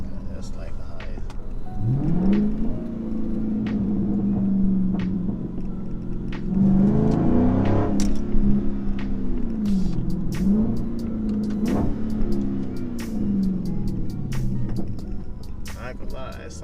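A Dodge Charger 392 Scat Pack fitted with a Roar pedal revs repeatedly, its deep exhaust rising and falling in several swells with sharp pops and crackles between them, close and loud, with people talking over it.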